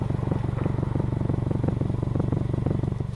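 A Subaru WRX engine idles through a budget catback exhaust with a deep, throaty burble, a rapid, even pulsing rumble heard up close without any voices.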